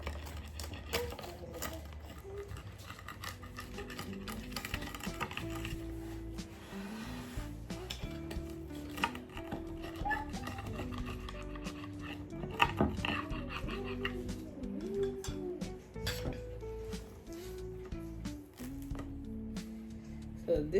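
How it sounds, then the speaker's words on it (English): Homemade pizza being sliced and served, with repeated knife and cutlery clinks and scrapes against a pan or plate, fairly faint and continuous over about twenty seconds. "So right now, you're just gonna cut"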